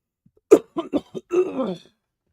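Several quick coughs in a short burst, close and fairly loud, with a brief throat-clearing rasp at the end and no other sound around them.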